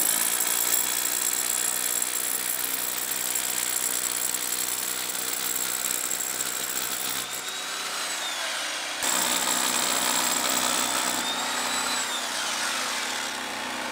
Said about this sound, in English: this is the first time I'm drilling into rammed earth.